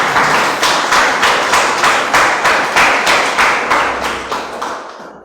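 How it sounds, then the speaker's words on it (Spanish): Audience applause at a Shabbat opening service, a loud crowd clapping in steady rhythmic unison beats, close and sustained, fading out at the end. "Vamos a darle un aplauso a nuestro Rey"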